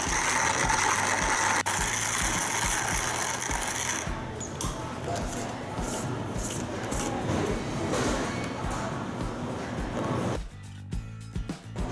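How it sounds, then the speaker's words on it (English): A hand coffee mill grinds about 20 grams of whole beans with a continuous gritty, crunching rasp, close and fairly loud throughout, easing off near the end. "Now I put about 20 grams and simply start grinding."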